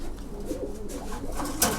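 Close pigeons give soft, low cooing phrases in a steady murmur, with a faint sharp click near the end.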